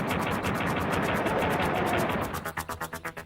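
Pistol gunfire from Duke in a Nintendo 64 game, a dense stream of rapid, evenly spaced electronic shots that thins into distinct separate bursts at the end, loud and continuous with no voices.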